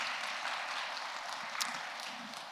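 A congregation at a church lecture claps together in a soft, steady wash of applause that sounds somewhat distant.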